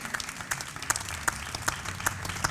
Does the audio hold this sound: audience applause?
yes